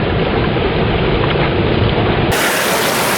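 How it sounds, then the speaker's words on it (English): Steady rain beside a Pennsylvania brook trout stream during fly fishing, a loud continuous hiss of drops and running water that shifts in tone partway through, with no voices. "this rain is just making it tough"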